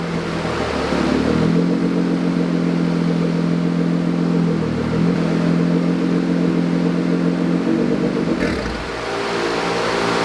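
A Nissan GT-R with full bolt-ons and an E85 tune, making 571 horsepower, roars on a dyno in a loud sustained rev, dipping briefly a few times before the pitch falls away near the end.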